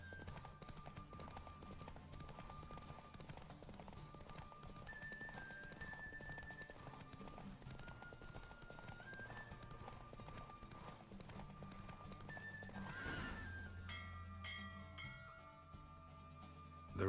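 A horse gallops in a race in The Witcher 3 video game, its hoofbeats clip-clopping in a quick, steady rhythm under game music, with a rushing swell near the end; the neighing is not clearly evident.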